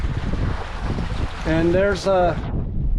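Strong wind buffets the microphone out on the Gulf while sailing, a loud continuous rushing roar with someone speaking briefly over it.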